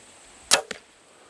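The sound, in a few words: compound bow shooting an arrow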